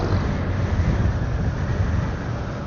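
Steady wind buffets the microphone with a low, continuous roar throughout, loud and unbroken, at Pililla Wind Farm in the Philippines.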